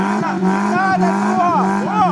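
Rally car revving hard with a steady droning engine note and wavering pitch, pushing through a lake during an off-road race, with excited voices shouting close over the motor throughout.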